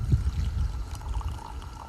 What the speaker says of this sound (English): The first pour of the morning.